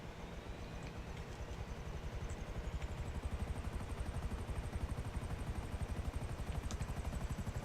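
A helicopter in the GTA Online video game, its steady rotor chop pulsing rapidly and continuously with a low engine drone, growing slightly louder partway through.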